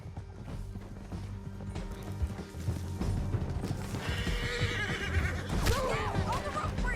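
In the Western video game Red Dead Redemption 2, horses whinny and hooves clatter at a gallop, a shrill neigh rising late over the rhythmic pounding and a low rumbling backdrop, with voices mixed in.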